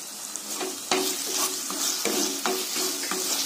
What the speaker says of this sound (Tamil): நல்லா இந்த மாதிரி ஆயிலேயே 2 நிமிஷம் வதக்குங்க.